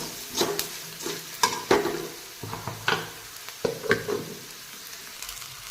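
Spices roast in a frying pan, with a run of scraping, clattering stirs at an irregular rhythm over a soft, faint sizzle, close by and clear.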